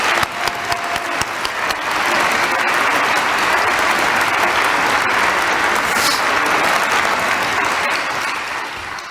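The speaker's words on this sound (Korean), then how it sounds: "우리 모두 일본 식구들 힘내시라고 힘찬 격려의 박수를 부탁드립니다." Church congregation applauding in a large worship hall during a Sunday service, a dense, sustained roar of clapping that holds steady for the whole stretch with no talk over it.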